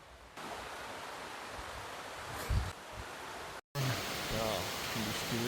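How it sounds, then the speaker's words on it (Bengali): Steady rain falls during a fishing outing along canals and wetlands in Bangladesh, heard as a continuous broadband hiss from a sheltered spot, with voices talking over it toward the end. "বৃষ্টির কোনো অভাব নেই"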